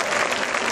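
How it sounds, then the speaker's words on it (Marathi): Women in an audience clapping, a short burst of dense, steady applause from many hands, loud and continuous with no voices standing out. "फक्त बाया टाळ्या वाजवा"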